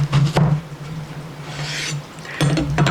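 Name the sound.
knife cutting vegetable into strips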